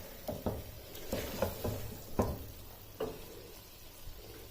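Chopped ginger and coriander stirred into stew keema in a pot, a series of soft, spaced spoon knocks and scrapes over a quiet simmer, close and fairly faint.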